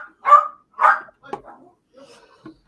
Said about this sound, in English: That's just a dog barking